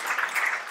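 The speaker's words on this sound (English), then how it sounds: "Give Leslie a big round of applause." Audience applause fills a PechaKucha Night presentation event in Miami, a dense, steady wash of many hands clapping at close range, with no voices over it.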